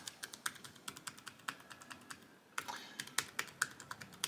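One-finger typing on a Samsers foldable Bluetooth keyboard: sparse, evenly spaced light key clicks, close and crisp, tapping along one at a time in a quiet room.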